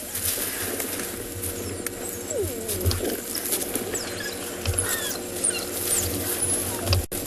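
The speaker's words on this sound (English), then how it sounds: "Growls, bark like calls." A safari pack of wild dogs gives low growls and short bark-like calls, scattered irregularly over a steady outdoor background with faint chirps and rustling.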